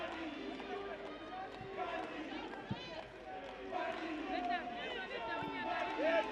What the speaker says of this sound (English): the Mozambican, the Zimbabwean fans in the stands really applauding their team